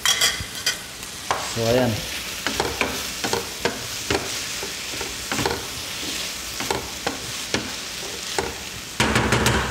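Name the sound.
beef sizzling and being stirred in a pan for stew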